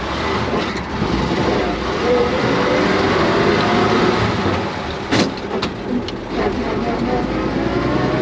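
A restored 1934 Chevrolet 1-1/2 ton stakebed truck drives along with a steady, loud engine rumble from inside the cab, with a brief dip and a few sharp knocks near the end as it shifts into fourth gear.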